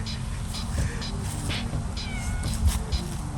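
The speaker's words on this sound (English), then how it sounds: "See, cats." Cats meow repeatedly outdoors on a farm property, several fairly close drawn-out cries spread across the moment over a low background rumble.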